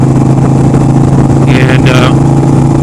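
Motorcycle engine held at raised throttle while braking, a steady loud drone close to the rider, with a voice speaking over it.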